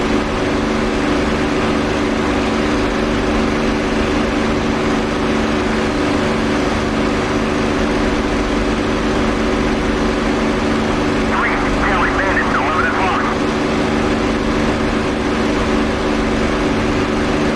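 Piston fighter aircraft engine in the DCS World flight simulator drones loud and constant as throttle is eased back, a steady dense roar filling the cockpit with a brief rattling burst partway through.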